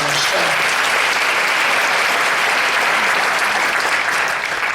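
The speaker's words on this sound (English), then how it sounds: "Please give them a round of applause." Sustained audience applause at a school district's annual address, honoring graduating students; dense, steady clapping from a large crowd that stays loud throughout.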